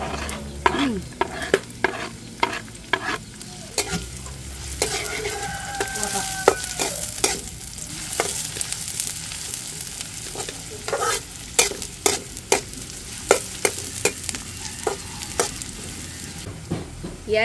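Onion sautéing in a hot pan, a steady sizzle broken by frequent scraping clicks of a utensil stirring, close and continuous with no talking.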